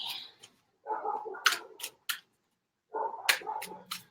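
Tarot cards shuffle in two quick bursts of riffling and soft slaps, separated by a short pause, close and clear.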